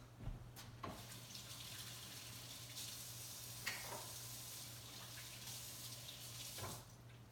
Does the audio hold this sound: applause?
no